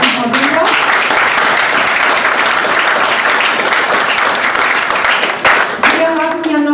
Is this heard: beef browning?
no